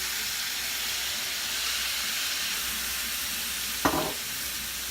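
White wine goes into a sautéing paella pan, where a loud, steady hissing sizzle fills the clip and a sharp splashing burst stands out near the end.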